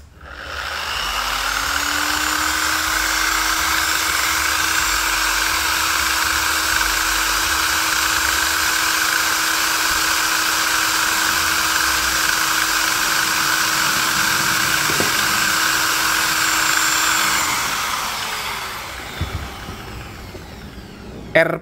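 An H&L HL8050DA dual action polisher runs at speed setting 1 with a loud, steady electric whine and hum. It spins up at the start, holds for about fifteen seconds, then winds down to quiet.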